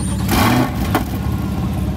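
A Chevrolet C8 Corvette engine fires up at a racing track, a sudden loud starter burst and catch settling into a steady close idle rumble with a brief blip near the one-second mark.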